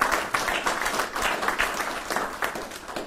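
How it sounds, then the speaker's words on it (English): An audience at a military promotion ceremony applauds in honor of Dina, a steady wash of clapping from many hands in a room, sustained throughout at moderate loudness. "how about a round of applause for Dina and thank her for her great service"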